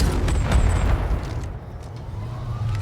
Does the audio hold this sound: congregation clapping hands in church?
no